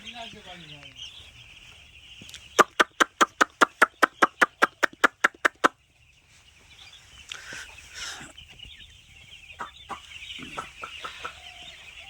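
A rapid burst of sharp, evenly spaced clicks is followed by a mix of clucking fowl and brief calls from chicks under a winter brooder, fairly close and moderately loud.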